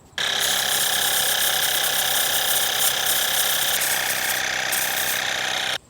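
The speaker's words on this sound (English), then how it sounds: "And this nozzle right here turns on and off the spray." A loud, steady spraying hiss from a foam sprayer nozzle with a faint mechanical whine starts abruptly, runs without a break for several seconds, then cuts off sharply.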